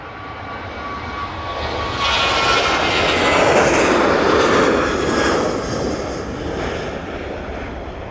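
A Boeing 737 jet rolls for takeoff at Manchester Airport bound for Alicante, its engine roar swelling from a distant rumble into a loud, broad rush that holds steady and then eases slightly.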